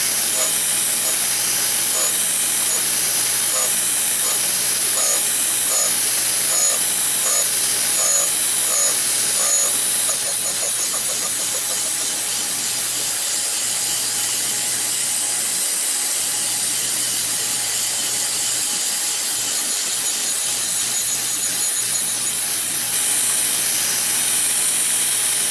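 A surface grinder takes a rough pass on a hardened riveting hammer with coolant spraying, giving a steady loud hiss and whir with faint rhythmic ticking that runs unbroken throughout.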